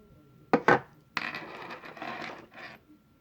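Dice rattle and tumble on a hard surface, two sharp clatters followed by a longer rolling, skittering run of small knocks, close and alone.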